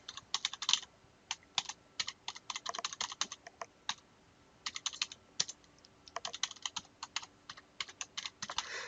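Typing on a computer keyboard to log in, with quick bursts of light clicking keystrokes separated by short pauses, close and quiet, with no voices.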